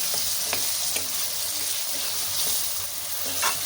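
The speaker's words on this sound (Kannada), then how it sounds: "ಸ್ವಲ್ಪ ಎಣ್ಣೆಲಿ ಬಾಡಿಸ್ಕೊಳ್ಳೋಣ" Ingredients for vangibath fry in a little oil over a low flame, a close, steady sizzle with intermittent stirring clicks and soft spatters.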